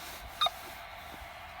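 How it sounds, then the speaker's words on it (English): A falconry telemetry receiver gives faint, isolated electronic beeps, two short chirps spaced about a second apart over quiet background hiss. "every 11 beeps you'll get a quick double beep if your battery time is running out"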